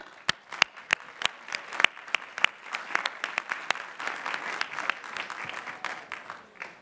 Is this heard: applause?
yes